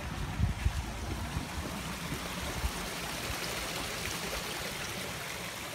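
Water from aquaponics beds draining back into a pond waterfall, a continuous close rushing splash with no speech.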